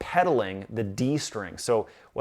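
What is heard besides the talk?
None of the usual background noises is heard.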